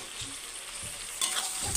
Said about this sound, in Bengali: অল্প লাল লাল করে ভেজে নেব মাংসটা